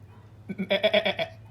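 A single goat gives one short, wavering bleat, close and fairly loud, over a low steady hum.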